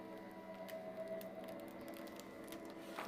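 An embossing folder with a metal shim and a plastic shim, holding a Chloe's Creative Cards Poinsettia 3D design, is cranked through a die-cutting machine, giving a faint, steady mechanical hum and grind with soft squeaks and no talking.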